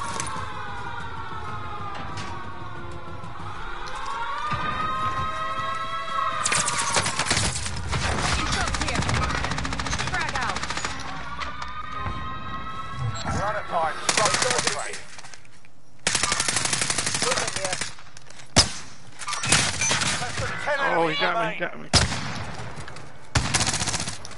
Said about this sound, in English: Oh, I'm getting shot from somewhere.